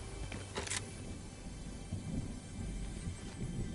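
An approaching storm in a video game, with a low rolling thunder rumble and a sharp crack early on, followed by continuous rain-like hiss at moderate loudness and no speech.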